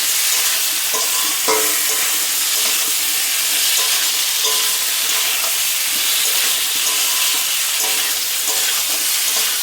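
Bottle gourd curry being stirred and fried with spices in a pan, a steady broadband sizzle throughout with intermittent scraping stir strokes of a spoon against the pot, close and continuous with no voices.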